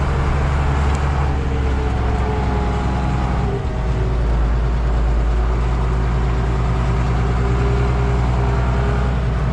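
A tractor engine drones steadily while working a field being resown, a loud, constant low rumble with a faint mechanical whine over it and no talking.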